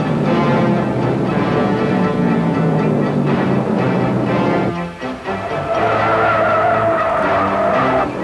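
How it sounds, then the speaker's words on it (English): A 1971 stock car race with one car spinning in oil on the track, loud engine roar and tire skidding sustained throughout, a brief dip midway before the racket resumes with a high squealing tone. "One car blows, another spins in the oil"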